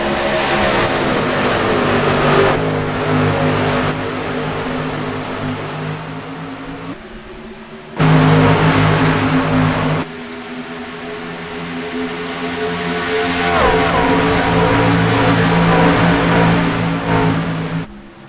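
Race trucks at a truck championship accelerating hard through the gears, several engines roaring loud and close in a steady wall of sound, with one sharp cut partway through and the revs climbing again toward the end.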